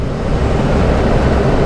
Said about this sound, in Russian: А вот сейчас происходит загрузка асфальтобетона в асфальтоукладочную машину.